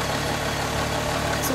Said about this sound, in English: Here's the exhaust sound, as you can hear.